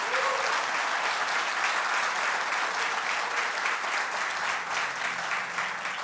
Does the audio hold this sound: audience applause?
yes